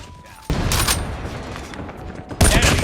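Rapid bursts of gunfire crackle and boom in a game soundtrack, loud and continuous, with a sharp volley near the end.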